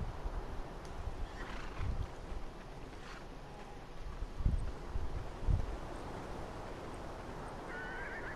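Horses neighing in the video game Beyond Two Souls, several whinnies over an outdoor ambience with a few thuds and hoof-like knocks, moderately faint.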